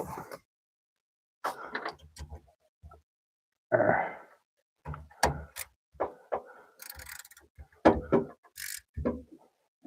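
A part on a limousine is being tightened by hand. Short, separate bursts of clicking and clanking from the tool come close by, with quiet gaps between them.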